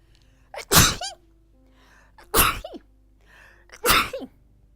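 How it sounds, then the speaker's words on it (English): Three loud sneezes set off by dust during wooden ship-model planking, each a sharp nearby burst with a short breathy tail, spaced well apart over several seconds. "Excuse me, just a little dust and I'm sneezing."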